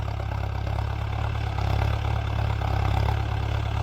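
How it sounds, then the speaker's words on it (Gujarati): A tractor engine idles with a steady low drone throughout, a continuous rumble with faint clatter on top and no voices. "સૂર જોઈ લ્યો ખાલી ટ્રેક્ટરનો સાંભળો તમે"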